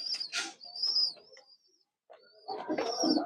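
Pet pigeons coo and chirp close by in bursts, a short pause falling between calls, with no talking over them.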